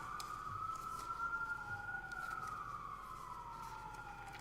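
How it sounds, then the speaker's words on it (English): A wailing siren sweeps slowly up and down, moderately distant, over low traffic rumble, with no talking, heard outside a courtroom during oral arguments. "could you wait till the sirens pass?"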